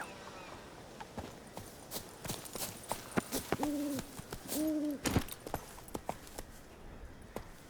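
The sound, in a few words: horse hooves clip-clopping, from video game The Witcher 3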